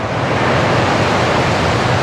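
Roar of high ocean surf pounding the southern coast near Sukabumi, a loud, dense, continuous wash of breaking waves with no pauses.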